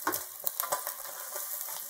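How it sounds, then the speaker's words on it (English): Chicken wings for Buffalo wings sizzle and crackle steadily inside a hot air fryer basket, a continuous close frying hiss with small popping bursts throughout. "they are really sizzling away now"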